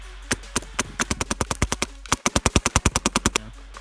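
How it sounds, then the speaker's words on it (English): An Empire Axe paintball marker with its stock bolt fires in rapid bursts, about two dozen sharp, evenly spaced cracks in two strings separated by a short pause, close and loud. "here we have the axe with the stock bolt shooting heat."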